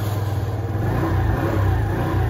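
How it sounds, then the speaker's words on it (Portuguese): A Suzuki Let's 4 four-stroke scooter engine runs and revs lightly, a steady mid-pitched buzz with slight swells in pitch, heard close and alone. "Tem barulho de motinha 125"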